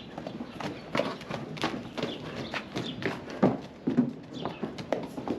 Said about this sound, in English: They're coming running right up top.